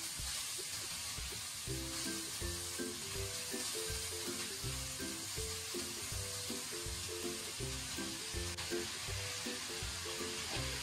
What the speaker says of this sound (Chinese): 然后快速的翻炒均匀。